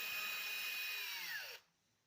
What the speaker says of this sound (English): Use progressively larger bits and keep drilling.